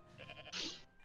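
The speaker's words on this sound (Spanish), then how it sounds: "Esa cabra del demonio." In the game Goat Simulator, a goat lets out a quick, wavering bleat with a few short pulses and then a louder, strained cry, heard alone and fairly faint.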